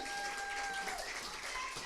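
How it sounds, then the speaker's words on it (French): Faint, steady applause from an audience at a community book presentation, a brief even patter of clapping. "On applaudit Marlène, que vous connaissez bien."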